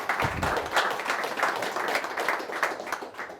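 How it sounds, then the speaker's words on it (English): Audience claps for a guest at a tech meetup, a dense and fairly loud burst of applause that stays even throughout with no talking over it. "give him a round of applause"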